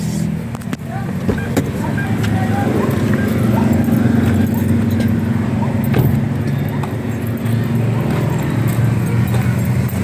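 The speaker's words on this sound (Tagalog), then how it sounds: "Dog." A dog barks in scattered bursts close by, over the steady low idle of a Hyundai Tucson engine.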